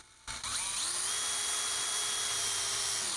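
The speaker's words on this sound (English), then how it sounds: "this is like butter for this drill bit to get through" A power drill runs steadily for about three seconds as its bit passes easily through soft material while fixing up a sonic levitator, with a close, loud, continuous whine and no talk.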